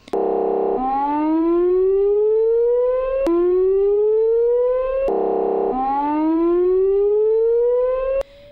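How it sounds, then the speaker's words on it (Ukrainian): An ambulance siren wails loudly and close, rising in long repeated sweeps about every two and a half seconds with no voices. "нашого автомобіля, що їхав з увімкненою сиреною та проблисковими маячками"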